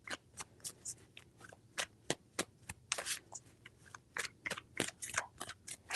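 Tarot cards are shuffled by hand during a reading, close and quiet, with a fast run of sharp riffling flicks and soft slaps that pause briefly midway, and no talking.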